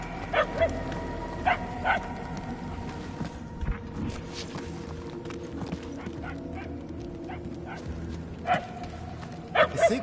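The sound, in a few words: dog barking in Guardians of the Galaxy video game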